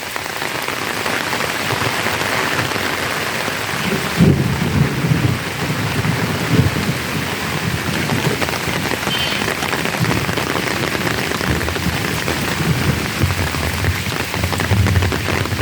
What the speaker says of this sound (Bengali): আলহামদুলিল্লাহ এই বৃষ্টি খুবই দরকার